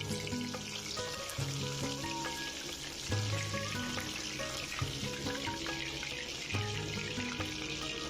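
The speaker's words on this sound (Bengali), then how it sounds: "মিডিয়াম টু লো ফ্লেমে মাছগুলিকে ভালোভাবে ভেজে নিলেই তৈরি হয়ে যাবে দীঘা স্টাইল আমুদি মাছ ভাজা" Digha-style amudi fish fry over a medium-low flame in a pan, a continuous quiet crackling sizzle with a faint melodic tone running underneath and no speech.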